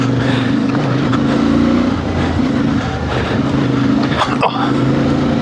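A 2026 CFMoto Ibex 450 parallel-twin motorcycle engine drones steadily and loudly while riding off-road, with wind and rumble throughout.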